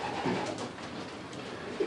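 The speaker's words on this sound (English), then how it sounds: "you're holding a pigeon there now." A racing pigeon held in a handler's hands at a loft gives soft, low cooing calls, faint and close against quiet background ambience.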